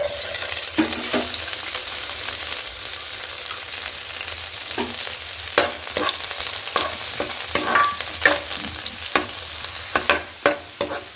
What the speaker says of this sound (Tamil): அடுப்பை பற்ற வச்சு ஒரு பேனை வச்சு அதில் ஆயில் ஊற்றி ஆயில் ஹீட் ஆனதுக்கப்புறம் நறுக்கிய பூண்டை போடணும்